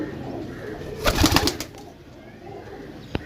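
Teddy pigeons for sale in a loft in Jhelum, Pakistan, give a short burst of cooing and wing-flutter near the middle, with a faint background hum and one sharp click near the end.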